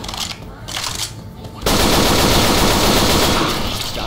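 Rapid automatic gunfire in the Left 4 Dead 2 zombie shooter, a dense, loud, sustained burst of shots that erupts after a quieter stretch and keeps hammering to the end.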